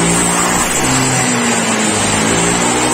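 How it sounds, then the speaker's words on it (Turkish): A Honda PCX scooter engine revs hard and close, its pitch climbing and dipping as the throttle is worked, loud and continuous with no voices. "Şimdi gaz veriyorum."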